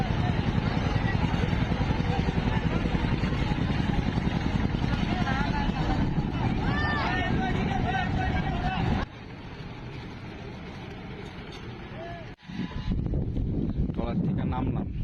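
A river trawler's engine drones steadily as the boat crosses the river, buffeted by wind noise with voices mixed in, the drone dropping briefly near the end.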